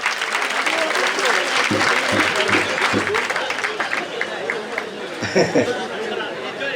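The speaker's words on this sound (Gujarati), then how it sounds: "એકવાર સાયકલ વીરો માટે જોરદાર તાળીઓ" Steady applause from a crowd at a cycle pilgrimage event in Dadar, Mumbai fills the whole stretch, with a murmur of voices mixed in and a few louder claps near the end.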